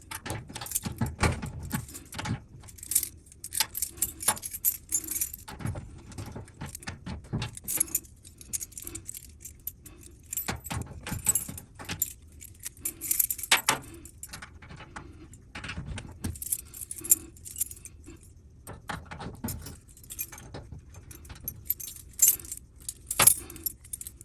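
A ring of old, unusable keys jangles and clinks as someone sorts through them to find the one that fits a lock, in intermittent close metallic bursts over quiet background.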